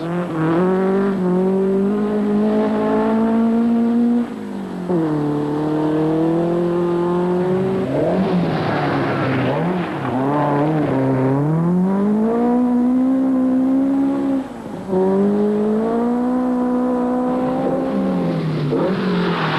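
Rally car engines drone steadily at close range on a muddy road as the cars rev and shift through gears, pitch rising and falling repeatedly over the full length, during the 1978 Southern Cross International Rally.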